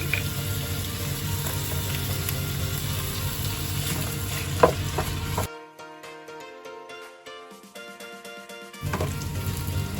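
Bay leaf, cumin, cinnamon stick, cardamom, cloves and ginger-garlic paste frying in hot oil for butter chicken, a steady close sizzle that drops out partway, then returns.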